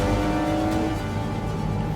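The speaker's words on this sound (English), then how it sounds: "4th gear, double blip to 2nd" A sports car engine blips twice while shifting down from fourth gear to second, heard from inside as a steady, close engine drone with rising and falling revs, and no talk.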